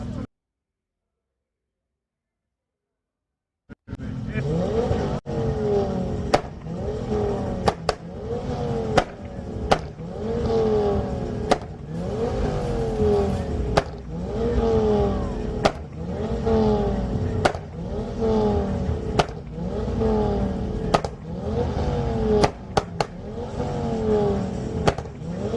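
A modified Ford Focus ST with about 310 horsepower revs repeatedly after a few seconds of silence, its engine note climbing and falling in steady rhythmic bursts, loud and close, with faint voices in the background.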